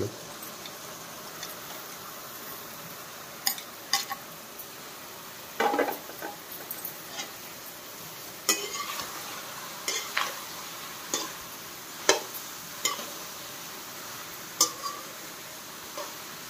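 Ridge gourd and chana dal curry being stirred in a pan, with intermittent scraping clicks and taps of a spoon against the metal over a soft, faint background hiss.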